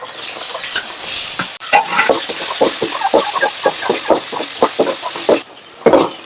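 Onions sizzling and frying loudly in a pan while a utensil stirs them, with steady hissing broken by repeated scraping strokes, close up and with no voices.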